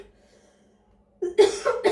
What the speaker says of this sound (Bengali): সরি হঠাৎ করে কাশি আসলো কেন যেন।